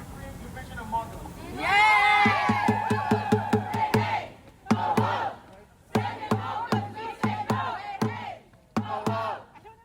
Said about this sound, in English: you'd see a crowd of students chanting in unison and booing the Supreme Court of the United States